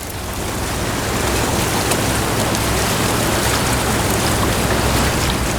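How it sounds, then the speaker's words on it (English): Sewage being aerated in a tank at a wastewater treatment plant makes a loud, steady rushing roar of bubbling water that swells up in the first second and then holds constant, with no talking. "it gets aerated so that the bugs can break the sewer down"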